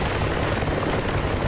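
Helicopter in the DCS World combat flight sim, likely an Mi-24 Hind or Ka-50 Kamov during a dogfight, giving a steady, loud broadband rotor and engine roar with no pauses.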